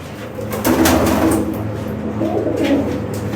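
A pigeon coos close by in a rolling, throaty call, with bird sounds continuing over a steady background hum.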